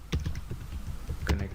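Quiet typing on a computer keyboard, a quick run of soft key taps in an irregular rhythm, heard close but faint.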